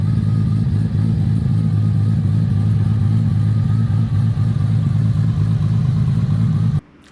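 A car engine idles loudly and steadily up close, a deep rumbling drone with a faint extra clatter, cutting off abruptly near the end.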